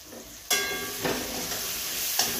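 A potato vegetable mixture is stirred in a pan, a spoon scraping and turning the food in a few strokes over a steady sizzle, close and fairly loud.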